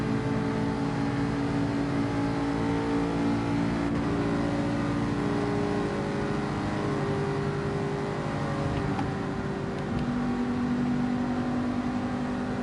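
Racing cars in Gran Turismo 7 with a Bugatti Veyron in the pack, a continuous layered engine drone with sustained tones that shift in pitch as the cars accelerate and change gear.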